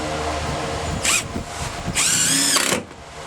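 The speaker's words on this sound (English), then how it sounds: "that little impact wrench does a good job" A small impact wrench drives screws into a new deck on a Sea Ray boat, giving two loud bursts of whirring hammering close by, the second burst longer, with clatter in between.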